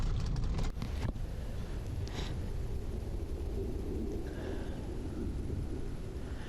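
Steady rain hisses in Florida woods during a turkey hunt, with a low rumble of thunder and some wind buffeting the microphone; a few brief clicks stand out early on.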